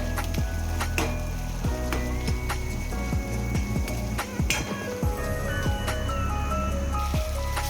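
Mixed vegetables being sautéed in a pan for a hotel-style curry, a continuous sizzle broken by frequent clinks and scrapes of a spoon against the pan, close up and without any talk.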